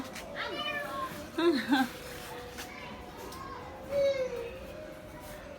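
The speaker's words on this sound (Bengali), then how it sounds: "আর সাথে আরো এক এই যে বিড়ালটা" A cat mews several times, short high cries that stand out over a quiet outdoor background of distant children's voices and faint chatter.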